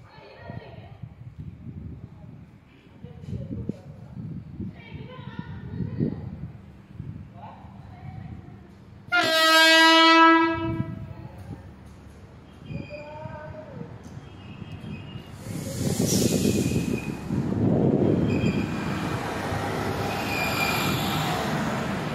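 A train horn blasts loudly for about a second amid rumbling engine noise and wheel squeal at Makthal railway station, with people talking before and after.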